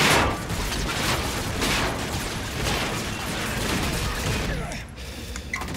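Sustained gunfire rattles through a Call of Duty Infinite Warfare firefight, loud and continuous with rapid bursts and impacts layered over game noise, easing slightly near the end.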